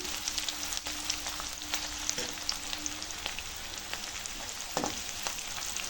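One onion and three green chillies frying in oil in a pan for egg fried rice, a continuous close crackling sizzle with scattered sharp pops and occasional stirring clicks.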